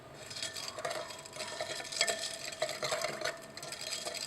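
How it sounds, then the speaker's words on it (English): A heated orange potassium chlorochromate solution is stirred in a glass beaker, giving a steady close scraping and swishing with faint clinks and a light sizzle-like hiss throughout, no voices. "continue heating the solution, stirring occasionally and breaking up any lumps until everything has dissolved"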